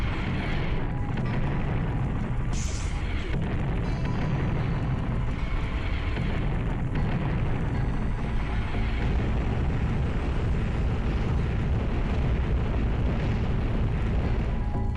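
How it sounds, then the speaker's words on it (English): Launcher explosions in the video game Syndicate Wars rumble and boom continuously over a dense, roaring battle din, with a sharper burst standing out near the start and no speech. "I think we'll just use our launchers to finish them off."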